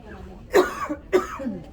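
Two deliberate coughs, close and voiced, like someone demonstrating a cough.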